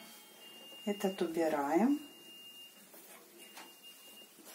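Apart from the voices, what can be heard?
washing machine beeping after finishing wash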